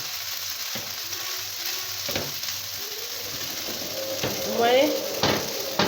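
Vermicelli gratin mixture is stirred in a frying pan with a steady sizzle and scraping strokes of a utensil, while someone speaks briefly near the end.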